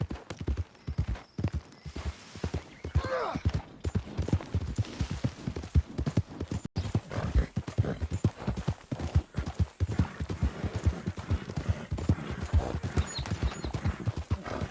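Horse hooves clip-clop in a steady walking rhythm across a long stretch, close and moderately loud, with soft scuffs between beats and a faint whinny mixed in.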